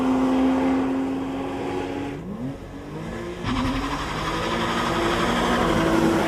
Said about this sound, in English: this Boxster S has a recognizable exhaust note that's pure Porsche